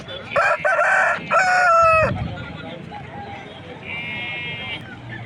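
A rooster crows once, loud and close, its drawn-out call rising then breaking off, followed by quieter noise at the Nallapadu rooster market and a faint high bleat.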